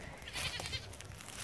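A goat bleats once, faint and a little distant, over steady outdoor background noise.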